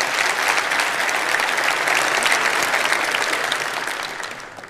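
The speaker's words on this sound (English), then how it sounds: "So give him a round of applause." A conference audience claps in sustained applause, dense and even, tapering off toward the end.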